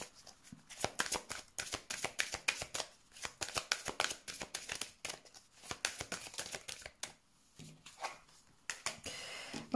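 Tarot cards are shuffled by hand in a quick run of crisp riffling flutters and soft slaps, close and fairly quiet, with brief pauses between bursts and no talking.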